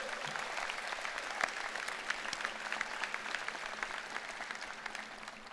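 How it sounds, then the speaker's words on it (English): A large crowd of new students at a university convocation applauds, a dense, sustained wash of many hands clapping, steady and evenly spread, heard from some distance with no voices rising above it. "Give yourself a round of applause."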